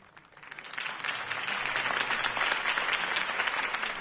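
Crowd applause following a campaign speech in a Batman video game, rising from a soft start into sustained, full clapping.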